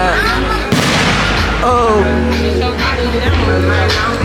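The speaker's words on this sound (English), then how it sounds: "We just popping fireworks in the yard" Fireworks explode in a residential yard, sharp booms and crackles over a constant loud rumble, with voices talking and shouting throughout.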